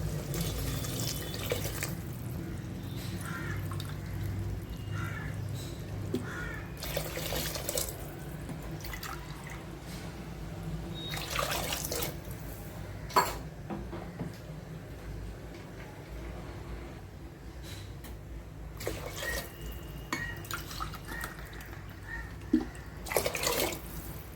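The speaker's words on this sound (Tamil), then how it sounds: "இப்போ தேவையான அளவு தண்ணி விடலாம்" Water poured from a glass into a pot of rice for mushroom biryani, measured out glass by glass, with soft splashing and trickling pours recurring in bursts over steady kitchen background.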